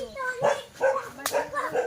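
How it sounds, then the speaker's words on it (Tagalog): A dog barks and yips a few times nearby, mixed in with people talking. "Yung aso."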